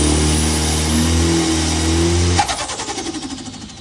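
A car engine cranks and catches, idles roughly with a deep steady hum, then is sharply revved, leaving a pulsing, fluttering exhaust note as the revs fall away; close and loud, with no talk.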